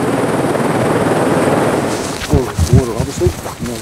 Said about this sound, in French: Ce jour-là, l'hélicoptère s'attaquait à la falaise.